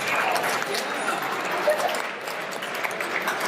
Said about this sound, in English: Let's give Megan a round of applause.